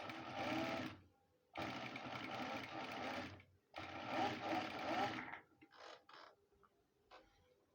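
A sewing machine stitches trouser fabric in three long runs separated by short pauses, then a few brief stutters, loud and close with no talk.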